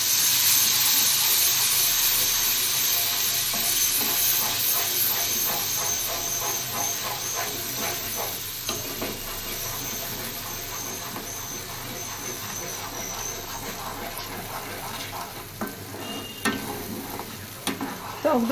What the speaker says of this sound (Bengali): টক দইটা দিয়ে আমাদের খুব নাড়তে হবে